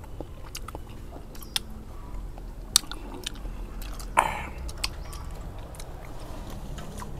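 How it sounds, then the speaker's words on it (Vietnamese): Someone chews raw garlic and white pork fat up close, soft wet bites and mashing with a few sharper crunchy clicks, steady through the moment with quiet room noise. "Em ăn tỏi nãy giờ?"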